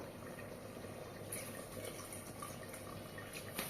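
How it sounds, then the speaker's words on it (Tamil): Water pours into chicken gravy in a cooking pot, making a faint, continuous splashing and trickling that runs the whole length. "இப்போ நம்ம தேவையான அளவு தண்ணி கொஞ்சம் ஊற்றிக்கலாம்."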